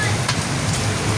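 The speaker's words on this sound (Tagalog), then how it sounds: "Ngayon talaga ang buhos ng malakas ng ulan." Heavy rain pours down at night during a typhoon, a dense, steady hiss of water drumming on surfaces that fills the short clip without pause.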